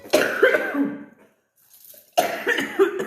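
Two bursts of harsh, close coughing separated by a short silence, each a rapid cluster of coughs.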